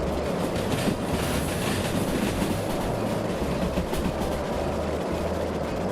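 A large steam locomotive hauling explosive cargo runs with its blower on in a train simulator game. A loud, steady rumble of chuffing and running gear fills the whole stretch with a rolling low-end drone, and no voice is heard.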